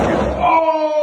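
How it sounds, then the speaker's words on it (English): A door slams shut with one loud close thump and rattle, followed by a ringing bell tone that lingers and fades. "it shut the door on him"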